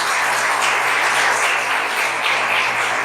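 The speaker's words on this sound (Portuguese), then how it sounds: "Aplauda forte no nome de Jesus." A church congregation applauds loudly during a service, a dense, steady wash of many hands clapping that holds at an even level for the whole stretch with no speech over it.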